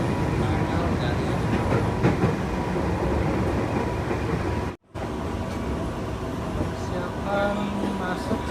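A KRL Commuterline electric train, a Tokyo-built set, runs from Bogor toward Jakarta Kota station with a steady rumble and clickety-clack of wheels on rail heard from on board, briefly cut by a short gap.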